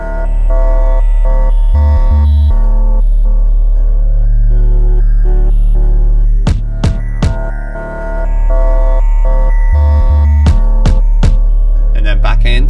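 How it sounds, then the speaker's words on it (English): A song bridge made in Logic Pro X with Omnisphere and Stylus RMX plays loud and close: a heavy, pulsing, newly recorded bass line under layered synth lines, with sharp percussive hits in the second half. "I just recorded a different bass line and kept the top synth lines"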